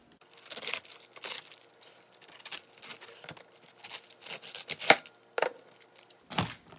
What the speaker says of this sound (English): first thing you gotta do is chop